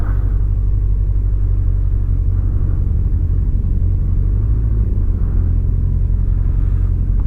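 A Kawasaki ZZR 1100 motorcycle idling a little fast after a hydrostatic lock: a steady, heavy low rumble with an even throb, close and loud, holding constant for several seconds with no voices.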